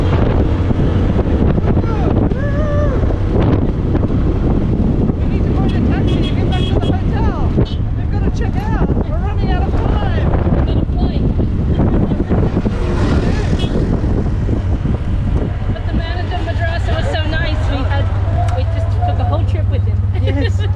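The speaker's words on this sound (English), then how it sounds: "Our tuk-tuk goes." A tuk-tuk drives through Iraq with a constant rumbling motor and heavy wind buffeting the microphone, while voices talk over the steady noise.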